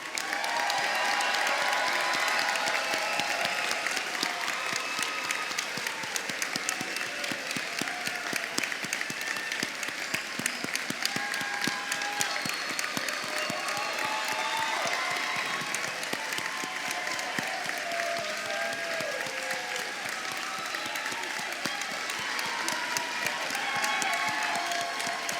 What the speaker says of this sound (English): Let's give them one heck of a round of applause.